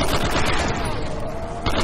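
Sustained, dense automatic fire from an MP40 submachine gun in Call of Duty: World at War custom zombies mode, loud and close, a continuous burst running almost the whole moment before cutting off.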